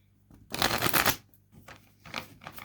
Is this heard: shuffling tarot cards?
yes